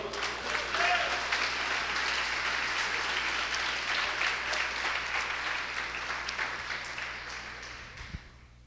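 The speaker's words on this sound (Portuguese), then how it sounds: "Você pode aplaudir ao Senhor?" A congregation applauds steadily at a church conference, a dense wash of clapping that holds for several seconds and then gradually fades.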